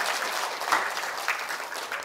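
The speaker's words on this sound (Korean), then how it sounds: "오늘 큰 박수로 김정훈 박사님을 모시도록 하겠습니다." An audience at a science lecture hall claps to welcome an ophthalmologist lecturer, a continuous wash of moderate applause throughout the short stretch, heard at a slight distance.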